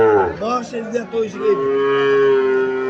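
A Friesian calf at a cattle market lets out a drawn-out moo, starting with a few wavering grunts and settling into a long, steady bellow close by.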